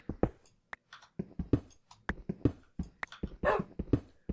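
A wolf in the video game Minecraft whimpers and yips in a quick series of short, sharp, moderately loud bursts with no talking.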